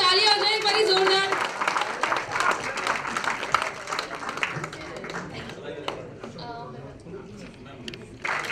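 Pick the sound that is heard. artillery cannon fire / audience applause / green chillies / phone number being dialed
audience applause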